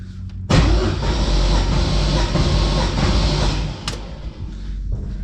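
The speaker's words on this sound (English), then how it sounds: "It cranks like that because there's no spark plugs." An LS V8 swapped into a GT86 cranks on the starter with its spark plugs removed for a compression test, a loud, even, rapid whirring churn lasting about three seconds before cutting off.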